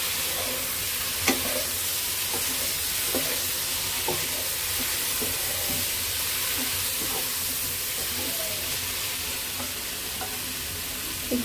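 Taro and plantain curry frying in a pan, a continuous loud sizzle and hiss with repeated scraping strokes of a spoon stirring at an uneven, steady pace, close by, with no talking.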